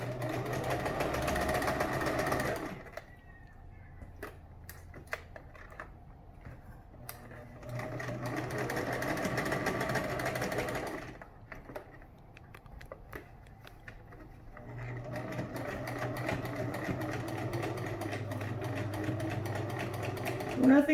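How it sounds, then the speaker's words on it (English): A sewing machine stitches cloth mask pieces together in three long, whirring runs separated by short quiet pauses, heard up close. "now we're going to sew these together here"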